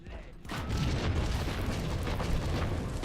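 A grenade goes off in Warhammer 40k Inquisitor Martyr, a Diablo-style action RPG: a sudden loud boom opens into a sustained, rumbling wash of blast noise and debris that holds steady for a few seconds.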